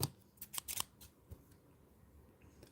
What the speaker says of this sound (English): I think I can cut most of that out with scissors as well.